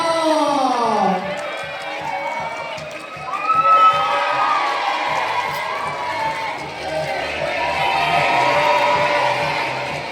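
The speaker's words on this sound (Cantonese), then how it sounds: "大家嗰啲歡呼聲唔好俾佢停喎" Crowd cheering and whooping fill an airport boarding gate celebration for flight GI409, with excited voices and calls rising and falling steadily over about ten seconds.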